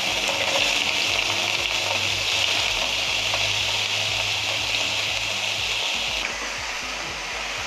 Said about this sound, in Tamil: வெங்காயம் சேர்த்தாச்சு. இப்போ ஆயிலே நல்லா வதக்கிக்கலாம்.